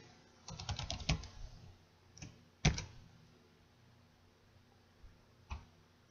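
Typing on a computer keyboard: a quick burst of close key clicks at the start, then a few isolated taps and a final short cluster, quiet and with no voices.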